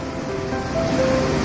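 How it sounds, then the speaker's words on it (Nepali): Steady rushing roar of falling water at the Khutpute waterfall on a trek in Nepal, continuous and broadband with light wind noise. "खुतपुते झर्नामा आइपुगेका छौँ"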